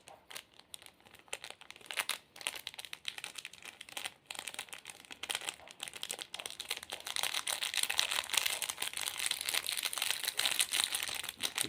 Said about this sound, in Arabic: خلينا بقى نجيب كيس الفليفر بتاع الخضروات.